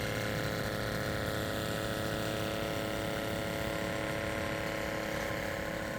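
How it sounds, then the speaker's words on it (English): A pump runs steadily on an antique steam boiler engine set up off grid, a continuous close mechanical churn with a constant broadband hiss and a low rhythmic pulsing throughout. "You can hear the pump pumping here."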